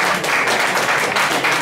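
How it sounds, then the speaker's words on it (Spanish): Dense, steady applause from a live audience at an acoustic concert at El Espiral, filling the short moment with loud, continuous clapping and no pauses. "Un fuerte aplauso para mi mujer que no viene nunca"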